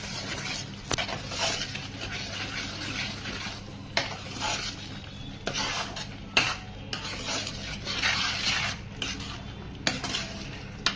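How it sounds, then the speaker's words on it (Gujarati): Repeated stirring and scraping of a thick pav bhaji vegetable mash in a metal pan, spoon clinks now and then over a faint sizzle, close and continuous. "એને સારી રીતે હલાવીશું"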